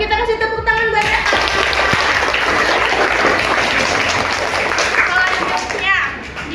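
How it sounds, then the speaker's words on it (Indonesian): Classroom applause for a student, loud and dense clapping from a group of pupils that starts abruptly and carries on steadily before thinning out, with voices heard around it. "Kita kasih tepuk tangan buat Reva."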